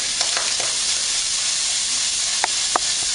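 Frozen vegetables for fried rice sizzle in a hot pan, a steady close hiss with a few sharp clinks and scrapes of a utensil stirring.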